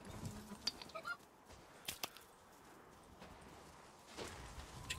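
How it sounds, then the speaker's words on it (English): A chicken in the horror video game Resident Evil Village, heard as a few faint, scattered clucks and squawks over quiet game ambience. "Chicken."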